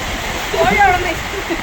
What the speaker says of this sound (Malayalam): മഴ പെയ്യുന്നടാ